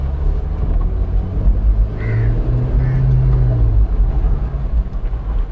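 A Ferrari 488 GTB fitted with an FI exhaust rumbles steadily and close by while being parked inside a garage, a deep continuous drone with a slight swell partway through.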